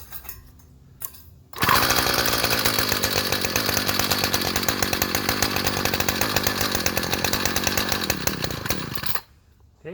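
A small engine with a freshly replaced fuel primer bulb fires after a pull-cord start, roaring loudly and close with a rough, rapid buzzing putter for about eight seconds before cutting out abruptly.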